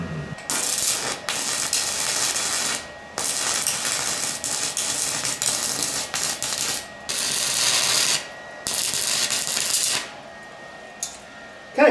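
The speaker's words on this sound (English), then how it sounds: "once I get the rod down to the metal, just above it, I'm going to depress the trigger, and that will actually go ahead and then start the current going through" Handheld portable stick welder laying a rod onto metal, a loud crackling, sizzling arc hiss in repeated bursts broken by short pauses, with no talk.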